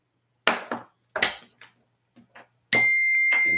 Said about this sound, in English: New chimes.